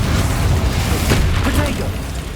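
Confringo spell explosion in the Hogwarts Legacy video game, a dense booming blast with a rumbling low body, a voice speaking over it as it fades out.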